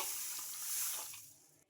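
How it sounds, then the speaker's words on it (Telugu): Drinking water runs into a bowl of washed moong beans to cover them for soaking, a short steady close pour that fades out near the end. "మునిగే వరకు అయితే వాటర్ అయితే వేసుకొని ఒకసారి బాగా కలిపేసుకొని"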